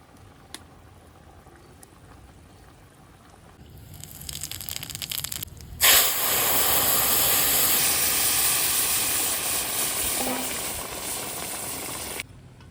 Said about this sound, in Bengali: তো এখন হলো মাছ যাবে তরকারির ভিতরে।